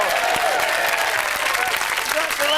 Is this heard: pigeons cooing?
no